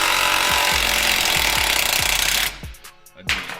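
A power impact tool hammers on the bottom shock bolt of a third-generation Ford Raptor, a loud rapid rattling burst for about two and a half seconds that stops abruptly, followed by a quieter short whir.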